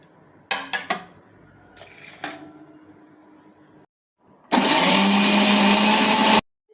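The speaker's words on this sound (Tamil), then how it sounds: "ஜீரகம் மிளகு பட்டை இஞ்சி பச்சை மிளகா இதெல்லாம் அரைச்சிக்கணும்" An electric kitchen mixer grinding cumin, pepper, cinnamon, ginger and green chilli into paste, a loud, steady, high-pitched whirring burst of about two seconds, preceded by clinks and knocks of the jar being handled.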